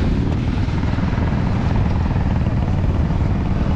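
A 2014 Irbis Dingo snowmobile engine runs steadily and loudly up close, a continuous droning roar with no breaks and no talk over it.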